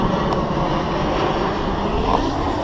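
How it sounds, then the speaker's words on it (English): A fixed-wing airplane passes overhead with a continuous broad engine roar, fairly loud and steady throughout, no voices over it. "oh my God, another plane"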